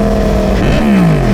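Sport motorcycle engine, likely a Yamaha R1 or Honda CBR 1000RR, running steadily on the road with a loud, continuous drone that shifts pitch as it revs, heard close over wind noise.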